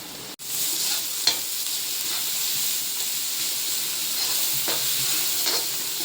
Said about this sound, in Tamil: அரைச்ச விழுதை நம்ம இதில் போட்டு இப்போ வதக்க போகிறோம்.